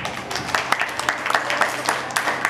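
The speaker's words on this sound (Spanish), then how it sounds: "Un fuerte aplauso." Audience applause at a library summer-program closing ceremony, a steady crowd clapping with dense overlapping claps throughout, fairly close and alone without talk.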